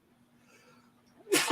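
A single sharp human sneeze bursts out at the end after a quiet, faint stretch of room tone.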